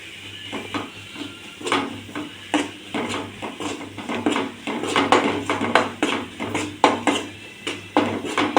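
A utensil stirs turmeric and garam masala in a sautéing pan, with intermittent scrapes and light clinks in an uneven rhythm at moderate loudness over a faint steady background hum.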